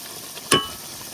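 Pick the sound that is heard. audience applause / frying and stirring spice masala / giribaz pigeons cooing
frying and stirring spice masala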